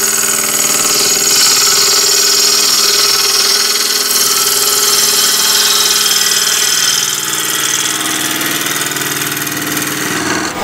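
A bowl gouge roughing out a small wooden bowl on a lathe, giving a loud, continuous hissing, scraping cut over the motor's hum that eases off near the end.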